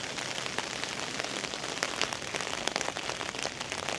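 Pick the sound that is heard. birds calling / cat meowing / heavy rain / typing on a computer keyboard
heavy rain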